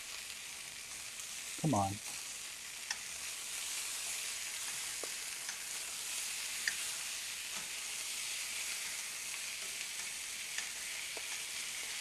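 Braised sausages sear in a hot pan, a continuous close hiss and sizzle that holds steady throughout, with a brief spoken word early on and a few faint clinks.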